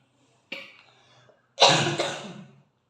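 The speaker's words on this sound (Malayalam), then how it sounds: "നല്ല ചുമയുണ്ട്," A person with a bad cough gives a short, sharp cough, then after a pause a louder, fuller, raspy cough, both close up with no speech.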